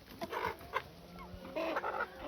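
A caught country chicken clucks and squawks in short agitated bursts, fairly close, with rustling and faint background noise between calls.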